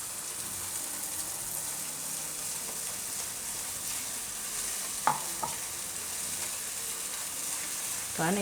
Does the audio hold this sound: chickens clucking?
no